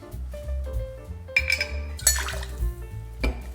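Ice clinks and rattles against glass as a vermouth and Aperol cocktail is stirred, irregular bright clicks and knocks over a low hum, with a louder cluster of clatter midway.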